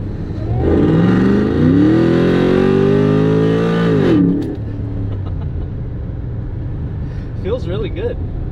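A Subaru Forester swapped with a supercharged V8 from a Cadillac CTS-V revs hard and accelerates, a loud rising engine roar lasting about four seconds, then settles to a lower cruising drone with brief speech near the end.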